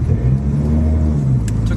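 A 1997 Honda Civic DX with a D16Z6 engine and a fault pulls away under slow acceleration. The engine drones loudly and steadily up close as its pitch climbs, and nobody speaks.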